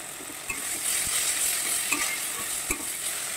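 Masala with tomato and chopped coriander being stirred and fried in a pan for a tangra fish curry, a steady close sizzle with occasional scraping knocks of the spoon against the pan, no voices.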